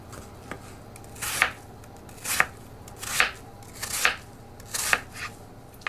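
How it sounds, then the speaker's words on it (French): Peeled apples sliced thinly with a knife on a board for an apple tart: five crisp, evenly spaced cuts about a second apart, close and clear with no talking. "Je découpe mes pommes que j'ai pelées en lamelles fines"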